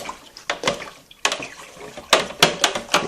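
Agave syrup wash with yeast being stirred by hand, giving a run of short sloshing liquid swirls in bursts with brief pauses, close and moderately loud.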